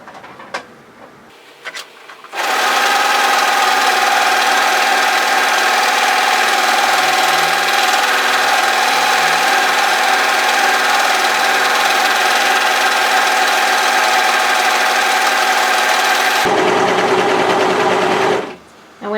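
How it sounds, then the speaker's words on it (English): An overlocker stitches along the inside edge of a pair of bib overalls, a loud, steady mechanical whirr running continuously for about fourteen seconds, then stopping abruptly. "all you want to do is just overlock and tidy up that edge so it all looks nice and pretty"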